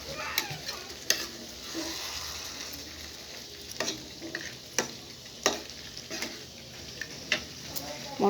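Mutton pieces, marinated with salt, turmeric and chili powder, frying in a pan with a steady sizzle and scattered sharp clicks of stirring, fairly quiet and close, with no talking.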